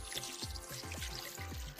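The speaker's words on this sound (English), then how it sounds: "So pour that right on in, and you can't have apple cider without apple cider." Apple cider poured from a half-gallon jug into a pot, a steady liquid stream with rhythmic glugging gulps from the bottle, close and fairly quiet.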